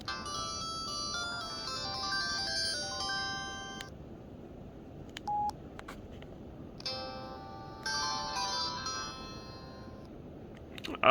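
Startup tune of a Samsung SGH-E316 mobile phone without a SIM card, a bright polyphonic ringtone-style melody in two short phrases, close and clear, with a few soft clicks between them.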